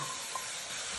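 Onions, red paprika and tomatoes being stirred in a pan, a steady broadband sizzle with one faint scrape of the spoon, close and continuous with no talk.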